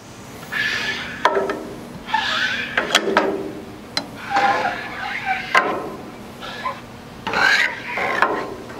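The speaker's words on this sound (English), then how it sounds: "I'm gonna scrape some of it too." A metal scraper pushes grease across the flat cooking surface of a Halo 4B griddle in repeated rasping strokes, close and fairly loud, with short pauses between passes.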